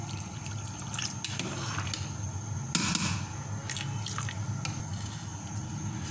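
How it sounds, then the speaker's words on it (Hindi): Water being poured into a pot of rice for mutton pulao, a soft steady trickle and splash heard close by with a few brief clinks. "अब थोड़ा सा पानी डालूँगी इसमें।"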